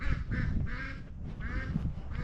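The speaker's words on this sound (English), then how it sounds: "Ducks say hi." Ducks on a small Montana homestead farm quack in a series of nasal calls, several in close succession over a low rumbling outdoor background, fairly near, with no talking.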